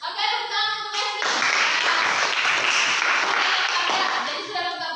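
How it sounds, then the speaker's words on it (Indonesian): Classroom applause from students, a dense burst of clapping that starts after a second of a voice and fades back toward a speaking voice near the end. "tepuk tangan untuk Esmin."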